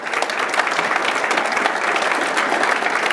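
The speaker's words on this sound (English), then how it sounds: "And I'd like for you to give them a round of applause." Sustained applause from a civic audience at a State of the City address, dense steady clapping filling the hall without a break, close and loud.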